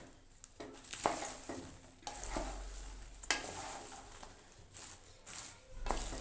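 Caramel is stirred into popcorn in a pot with the flame switched off, giving repeated scraping, rustling stirs in uneven bursts, moderately close, without talk.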